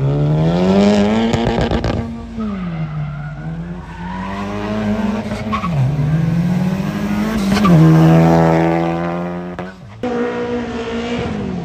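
A front-wheel-drive race car engine roars up close at an autocross event, revving and dropping in pitch through several gear changes, with a sharp throttle lift near the end.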